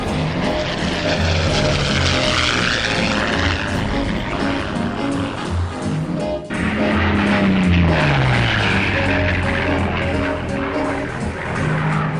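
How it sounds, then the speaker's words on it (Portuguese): A P-51 Mustang, a WWII fighter with a Merlin engine, drones loudly as its propeller engine runs steadily, with the pitch sliding downward as it passes close by. "Se você não sabia quem era o P-51, este é o P-51, Mustang"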